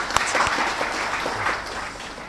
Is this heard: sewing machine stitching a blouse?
no